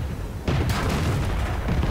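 A tank cannon shot in World of Tanks, fired by a Panzer IV at a KV-1: a sudden heavy boom lands just before the half-second mark, then a second blast, trailing into a sustained rumbling roar with no talk.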